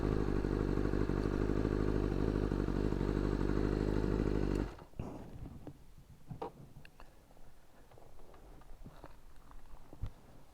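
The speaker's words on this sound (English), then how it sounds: "I'm just going to park over here for a second so we could look at this beautiful bike." A BMW S1000RR sport bike idles loudly with a steady engine drone for about five seconds, then cuts off. Quiet clicks, rustles and scuffs follow as it is parked.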